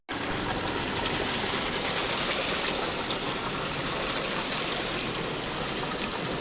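Cold mountain water flows during the rainy season, a dense, steady rushing roar that fills the whole stretch without a break and with no voices.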